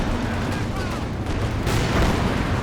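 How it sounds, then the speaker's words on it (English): Artillery rumbles in Company of Heroes 2 during a large 4v4 battle, a dense, continuous low roar of distant shelling and explosions that stays loud throughout the short stretch. "Artillery cover again, yes."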